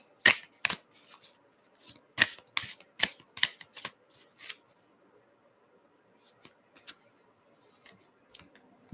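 A deck of oracle cards is shuffled close up in a series of sharp riffling bursts, a pause mid-way, then more quieter shuffles.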